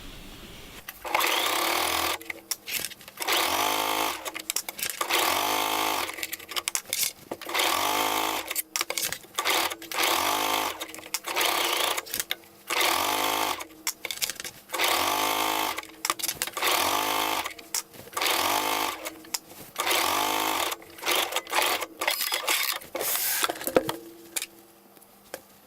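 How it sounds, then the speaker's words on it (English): A sewing machine stitches with a twin needle around a tank top in repeated bursts of fast, whirring mechanical chatter, each run of a second or two separated by short pauses. The machine is close and loud, and there is no speech. "I'm going to sew all around using my twin needle."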